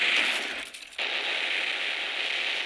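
Dense, continuous rapid gunfire from the video game Anger of Stick 5: Zombie, a steady rattling burst with a brief dip partway through, loud and close.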